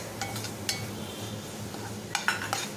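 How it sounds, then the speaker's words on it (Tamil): A spoon stirs and scrapes sambar powder in a pan for tamarind okra curry, with light metallic clinks over a steady background hiss. The contacts are soft and occasional, with a few louder taps near the end. "இப்போ பச்சை வாசம் போகிற வரைக்கும் சாம்பார் தூள் நல்லா வதக்கி விட்டுருங்க."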